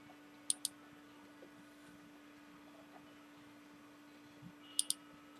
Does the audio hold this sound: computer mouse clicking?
yes